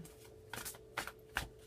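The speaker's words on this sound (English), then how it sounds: "I'm going to shuffle and cut for the message" Tarot card deck being shuffled by hand, three short riffling bursts at steady intervals, close and fairly quiet, with no talking.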